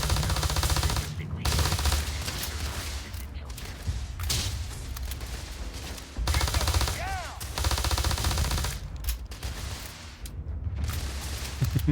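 A Kraken gun in a video game fires loud rapid bursts, with dense machine-gun chatter in repeated volleys over about twelve seconds and short gaps between them, with some speech mixed in.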